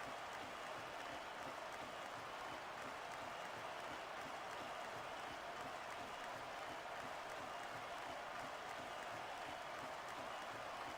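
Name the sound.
crowd cheering in WWE SmackDown vs Raw 2006 video game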